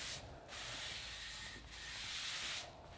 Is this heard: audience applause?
no